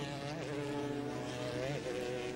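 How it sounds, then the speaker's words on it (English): A Corvette C5 race car competes in the GTS class at the 2003 12 Hours of Sebring, its engine a steady, droning howl that rises and falls slightly in pitch against continuous track noise. "that terrific Corvette C5 distinctive engine note"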